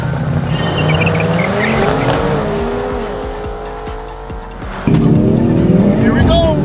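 Mercedes-AMG C63 cars, including a heavy all-wheel-drive C63 S E Performance, launch in a drag race, with loud engine roar rising through gears, tire squeal and a sharp jump in intensity near the end while someone talks over it.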